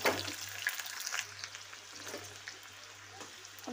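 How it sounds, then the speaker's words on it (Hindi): Sliced onion hits hot oil with cumin seeds in a pan, giving a soft, steady sizzle and crackle with a few stirring scrapes, fairly quiet and close, without speech. "ये तेल गर्म हो गया है, इसमें मैंने ज़ीरा डाल दिया है, और अब ये प्याज मैं इसमें डाल दूँगी।"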